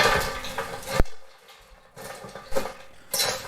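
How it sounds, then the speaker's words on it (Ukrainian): A 40-litre metal pot clanks and scrapes in a series of sharp, close metallic knocks and rattles, with short quiet pauses in between. "Тепер беремо каструльку на 40 літрів, на дно кладу гілочки."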